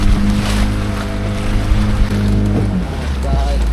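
A motorboat trolling lures across open water, its engine droning steadily and loudly close by with wind and water wash, a low hum holding throughout.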